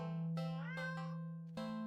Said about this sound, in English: Some more meows.